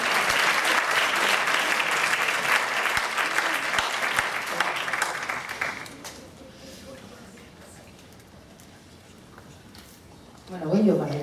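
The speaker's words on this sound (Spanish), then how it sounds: "vamos a dar un aplauso a la gratuidad de la respiración y de la sonrisa" Loud, dense applause from a lecture audience fills roughly the first six seconds, then thins and fades to a quiet room before a brief burst of noise at the end.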